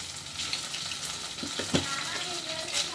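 Peanuts roasting with coarse salt crackle and sizzle in a hot pan, with a few scraping stirs cutting through the steady frying noise; no one speaks.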